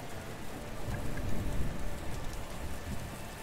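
Steady rainfall from the city-building game Patron, a dense, even hiss of drops pattering on surfaces that fills the whole stretch at a moderate level with no voices.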